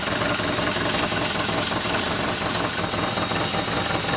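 A Lada Samara 1.5 GL petrol engine idles roughly on a bad carburettor, a steady, close, continuous running rumble with no talk over it.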